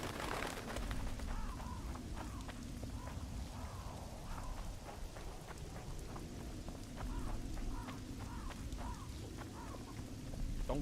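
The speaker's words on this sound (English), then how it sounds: "It's raining!" Steady rain in the video game Witcher 2, a dense continuous patter with faint game sounds and tonal chirps running through it.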